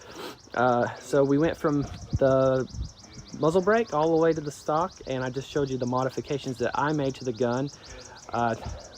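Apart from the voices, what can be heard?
bird calling loudly outdoors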